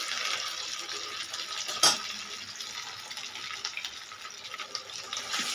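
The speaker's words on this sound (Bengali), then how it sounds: "আমি আবারও হাত ধুচ্ছি" Tap water running steadily in a kitchen sink while hands are washed during fish kofta cooking, a continuous close hiss and splash with one brief louder splash partway through, no talking.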